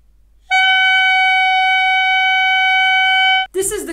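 A clarinet played with an incorrect embouchure lets out a single loud, piercing, sustained squeal held for about three seconds before stopping abruptly, followed by a brief breathy noise.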